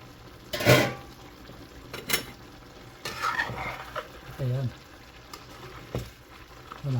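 Food stirred in a hot pan near the end of cooking, with a steady sizzle under scraping and clattering of the utensil against the pan, in irregular bursts; a voice speaks briefly.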